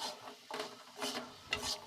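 Pea filling with garam masala is stirred in a pan, with soft scraping and rubbing strokes arriving in a few separate, close bursts.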